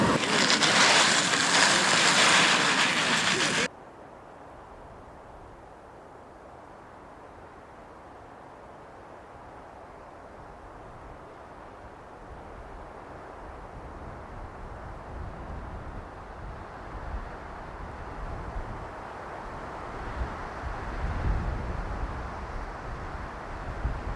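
A sharp burst of loud noise opens, then a steady rushing wind roars and buffets outdoors at a backpacking camp in the Chiricahua Wilderness, swelling stronger toward the end.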